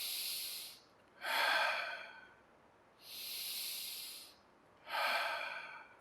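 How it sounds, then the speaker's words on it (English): Slow, deep breathing during a chair yoga exercise for children: four long, clearly audible breaths, alternating inhales and exhales, close and steady with pauses between them. "We'll breathe 3 times here."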